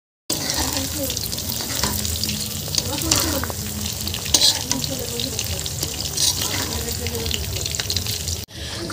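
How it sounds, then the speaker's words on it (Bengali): Chicken curry in its gravy bubbles and sizzles steadily in a pot on a stove, a close, continuous simmer running the full length with no talking. "মাংস কষানো হয়ে গেছে, ঝোল দিয়ে দিয়েছে, এই যে উনুনে রান্না হচ্ছে। আর দেখো কেমন টক বক করে ফুটছে"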